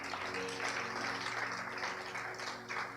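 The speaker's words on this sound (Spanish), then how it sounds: "Así que dé ese aplauso al Señor." Church congregation clapping together in sustained applause to praise the Lord, a dense steady patter of many hands that continues throughout with faint background tones underneath.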